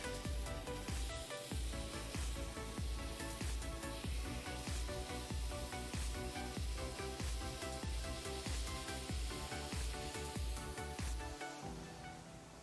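Sausage patties sizzle steadily in a hot pan, a dense continuous crackle and hiss that stays loud and close throughout with no talking.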